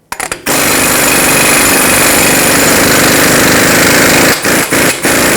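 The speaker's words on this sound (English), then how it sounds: "Using a 36mm socket, remove the axle nut." A 36mm socket on a loud impact wrench zips off the axle nut of a 2003-2012 Chevrolet Colorado, one long continuous hammering whir close up, then a few short bursts at the end.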